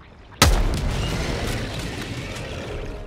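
A single loud explosive blast from the Eruptor gun in Helldivers 2 hits sharply and close, then a long rumbling debris tail fades slowly over several seconds, with no talking.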